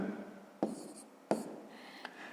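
Pen writing on paper during a fifth-grade math exercise, with two sharp taps and short scratchy strokes close up and faint, otherwise quiet.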